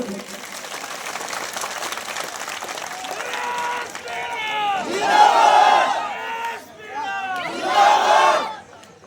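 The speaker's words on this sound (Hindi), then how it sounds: "नरेश भाई के लिए एक बार जोरदार तालियां बजाएं।" Crowd at a nighttime political rally in Deoli cheering and shouting in two loud swelling bursts, with a constant murmur of voices underneath and scattered clapping.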